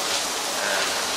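Rain falls steadily as a broadband hiss, constant and fairly loud across the short stretch, with no voices present.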